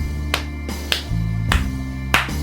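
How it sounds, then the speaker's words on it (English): Hands clapping a simple syncopated rhythm, four sharp, close claps spaced unevenly over a low sustained musical drone with no talking. "just perhaps clap a rhythm"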